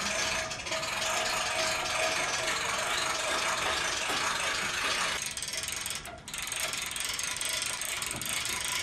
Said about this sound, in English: Carefully winch the hovercraft onto the trailer.